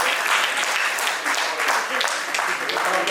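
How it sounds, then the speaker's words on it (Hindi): Loud, sustained applause from a large crowd at an engineering college alumni silver jubilee reunion, applauding a sponsor: thick, even clapping that fills the room for the whole stretch, with some voices underneath. "मैं चाहता हूँ उनके लिए बहुत जोरदार तालियां।"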